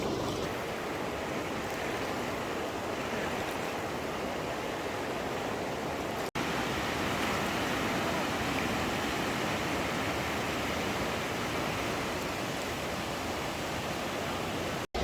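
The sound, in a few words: clear mountain river flowing beside a campsite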